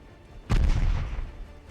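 Naval gunfire in the warship game Ultimate Admiral Dreadnoughts: one deep, heavy boom lands sharply, then a rumbling roll that slowly fades back to a low steady background.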